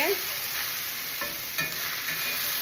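Corn tortillas and eggs sizzle steadily in a hot frying pan, a constant bright crackle close by with a few soft scrapes and clicks, no talking.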